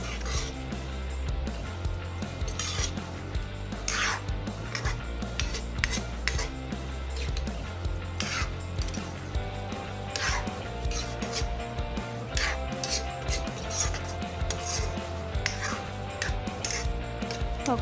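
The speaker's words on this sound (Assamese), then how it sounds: "এনেদৰে লৰাই থাকিব" A metal utensil scrapes and clinks steadily against a pot while chicken curry with tomatoes is stirred, continuous busy kitchen clatter with rhythmic knocks throughout.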